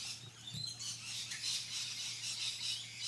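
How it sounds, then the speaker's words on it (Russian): Parrot feeding on berries in trees in Queensland, with bright chattering and squawking calls running steadily throughout over a low constant hum. "На деревьях попугай лакомится ягодами"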